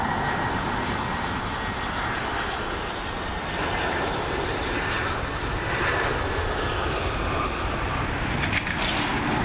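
An Aer Lingus airliner in its 2019 livery roars past at Dublin Airport, a loud, steady jet engine rumble with broadband noise filling the whole clip, no voices.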